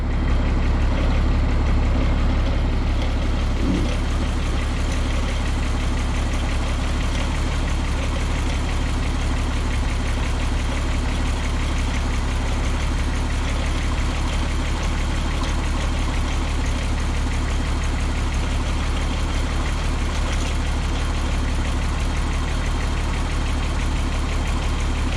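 A 1970 Chevrolet C10 truck engine idling after a radiator, heater core and water pump install, running while antifreeze circulates; a loud, steady low rumble holds close and unchanging throughout, with no talking.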